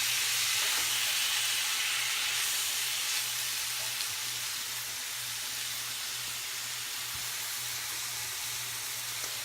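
Onions cooking in a hot pan in a home kitchen, giving a continuous, even sizzling hiss that holds steady and fairly close for the whole stretch, with no talking.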